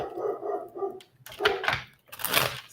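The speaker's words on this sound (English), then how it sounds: "Sorry if you hear Zeus barking in the back" A dog barks in the background indoors, a few loud separate barks spaced about a second apart, with no talk over them.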